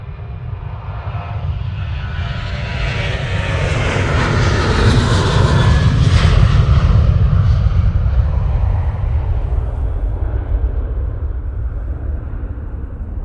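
A Ryanair passenger jet departing Manchester Airport makes a loud, close engine roar with deep rumble, swelling to a peak midway and slowly easing off.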